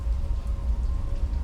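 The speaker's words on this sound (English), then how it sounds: "The rain outside grows heavier, the sound more intense." Heavy rain beats steadily against a window in a continuous, dense patter, with a low rumble beneath and no voices.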